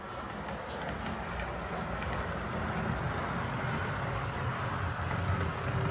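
Model train locomotive hauling a load around the layout track, a steady continuous rolling rumble that holds at an even level throughout with a faint high whine above it.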